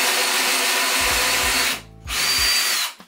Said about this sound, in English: And now we're drilling pocket holes to join it to the joists.